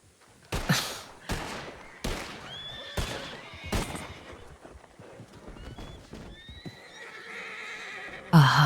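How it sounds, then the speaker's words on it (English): Several loud, harsh neighs and whinnies from a dying horse in a video game, in quick succession, with a trailing high squeal and a sharp burst at the end, no talking. "A hug over the sounds of horse dying."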